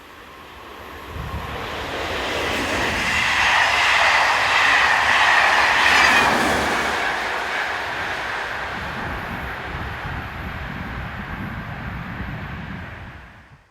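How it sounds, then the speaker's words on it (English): An electric TER train hauled by a BB-class locomotive runs on the line between Lyon and Marseille, swelling from a distance to a loud roar with rhythmic wheel clatter, then easing off as it passes. "Loco-powered TER services operate between Lyon and Marseille, and vice versa"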